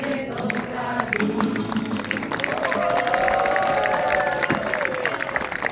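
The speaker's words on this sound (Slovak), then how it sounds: "Veľký potlesk" Audience applause and scattered cheering right after a group sings a birthday song, a dense steady clatter of clapping with crowd murmur and a sustained voice-like tone running through the middle.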